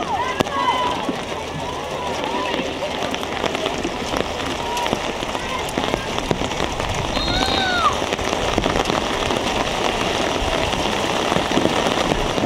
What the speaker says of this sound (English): Rain continuing to come down here